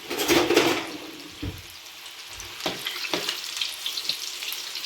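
Pastel pastries frying in hot oil, a steady sizzling hiss with bursts of bubbling, loud at first and then settling into a quieter crackle.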